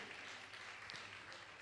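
Audience applause at a Jain religious question-and-answer gathering with a monk in Jharkhand, a faint, steady wash of clapping that runs through the whole short moment without breaks.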